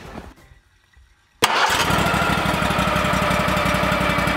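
A gas-powered well drill engine, freshly fueled with new gas, catches abruptly after a brief quiet crank and settles into a loud, steady running rumble with a fast rhythmic chug, close by and alone.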